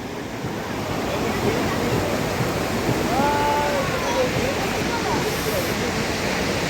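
Sea waves wash up to the beach steps at Tajpur, a steady broad roar of surf with wind, loud and continuous throughout, with faint voices and a brief high tone mixed in.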